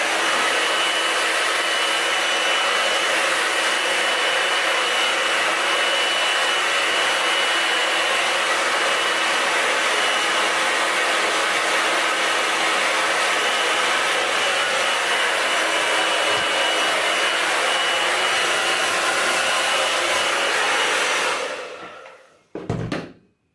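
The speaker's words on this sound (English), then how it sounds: "just add a little bit of blow dry just to curve the ends off with the oil in there" A hair dryer roars loud and steady at close range while blow drying a non-surgical hair replacement system, running unbroken for over twenty seconds before switching off abruptly near the end.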